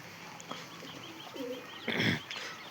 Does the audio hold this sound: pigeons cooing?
yes